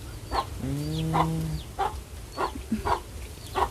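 Domestic chickens clucking near a rural Thai house, several short clucks in an irregular rhythm plus one drawn-out call, fairly close and clear over steady outdoor background noise, with no talking.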